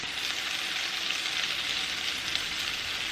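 Hawaiian roll French toast frying in a hot pan gives off a steady, even, moderately loud hiss with no break, no voices, and a constant texture throughout.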